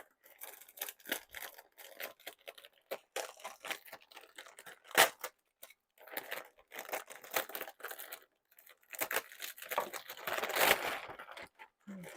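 A stiff plastic packet holding rose seedlings crinkles and crackles loudly as it is pulled open, in continuous bursts with brief pauses, close by.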